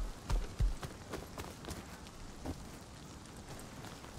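Horse hooves clopping in the game Rust, several irregular soft thuds early on that fade into faint, quiet steps.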